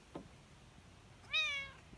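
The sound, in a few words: cat meowing on a deck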